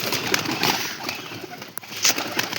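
Malwai white pigeons with white eyes coo in a loft, their soft murmuring calls blending into steady close rustling and a few sharper flutters and knocks.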